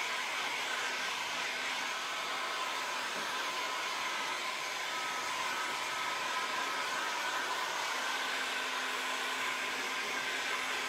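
A hair dryer blows steadily and close, its loud, even roar running without a break while it dries chalk mineral paint on an old oak bar and shelves.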